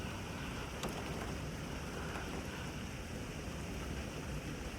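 Heavy rain and gusting wind from a severe thunderstorm with 70 mph gusts in Frisco, Texas, heard from indoors as a steady, dense broadband roar with a brief sharper burst near the start and no voices.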